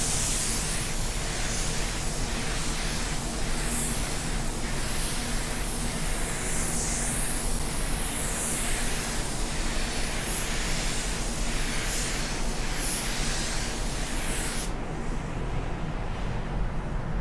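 A spray gun lays a second coat of silver paint on a car, a steady, close hiss of atomized spray running continuously and then cutting off sharply near the end.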